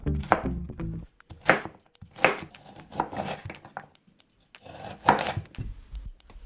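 Onions are chopped with a knife on a cutting board, about six distinct, fairly loud cuts at an uneven pace with short pauses between them.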